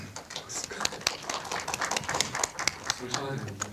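Audience clapping at a panel introduction with a curator and artists, a dense patter of many hands sustained for several seconds with murmured talk underneath.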